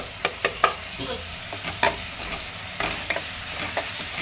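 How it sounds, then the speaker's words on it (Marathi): Tomatoes and onion masala are stirred and sautéed in hot oil in a pan: a soft, continuous sizzle is broken by several scraping spoon strokes, close and moderately quiet, with no talking. "तेल सुटेपर्यंत आता परतवून घेऊया."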